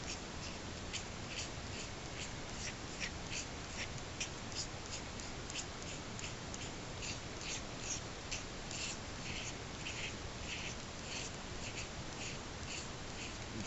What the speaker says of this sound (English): Scrape some magnesium into your tinder.